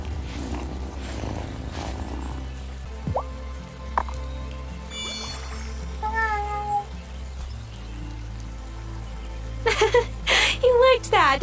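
A cat in the video game Wylde Flowers gives several short meows and soft chirps, with brief squishy drip-like game sounds mixed in and a louder burst of meows near the end.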